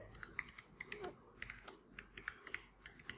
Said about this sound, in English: You can type in your pinned comment here.